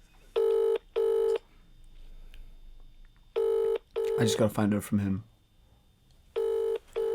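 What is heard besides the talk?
phone call ringing out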